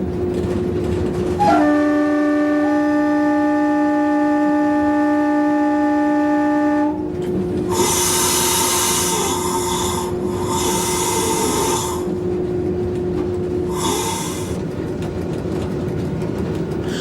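Heavy engine rumble fills a Portuguese Railways locomotive cab at full power, with a sustained horn-like tone early on and bursts of harsh hissing and rattling later.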